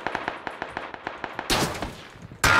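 Gunfire right after a shouted command to shoot: a rapid rhythmic string of sharp shots, then two louder, denser bursts of fire, with no talking over it.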